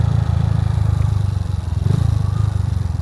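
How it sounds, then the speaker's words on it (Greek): A Kawasaki ZX130 motorcycle, freshly rebuilt, runs close by with a quiet stock-sounding exhaust, a steady low rhythmic putter that barely swells when revved. "Δεν ξέρω αν ακούτε την εξάτμιση"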